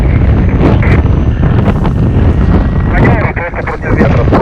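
Strong gusting wind buffets the microphone outdoors in a steady, loud, rumbling roar with deep thumping pulses, continuous throughout, with a voice faintly present beneath the noise.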